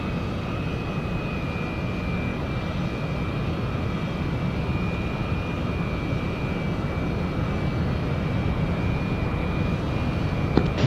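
An aircraft engine drones steadily on landing approach in the flight simulator DCS, a loud, constant roar with a thin whine running through it and no break for the whole stretch.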